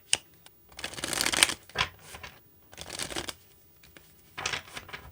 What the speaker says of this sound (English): Two more shuffles and let's begin.